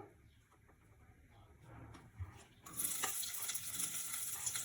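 Onions go into hot ghee in a pan for biryani: a quiet, faint start gives way to a sudden loud, steady sizzle that continues to the end.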